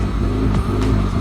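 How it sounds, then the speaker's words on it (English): A car's engine runs steadily after about twenty minutes of idling following coolant burping on a suspected blown head gasket, a loud continuous low rumble with a slight fluctuating hum and no talk. "you can hear the car running in the background."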